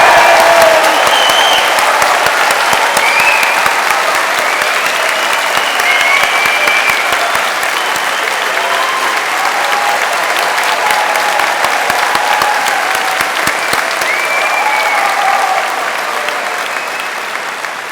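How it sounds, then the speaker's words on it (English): A graduation-ceremony audience in London claps and cheers for the new graduates. The applause is a dense, steady roar that goes on throughout, with whoops rising above it, and it fades slightly toward the end. "I'd like everyone to clap, cheer, and give our graduates the biggest possible congratulations"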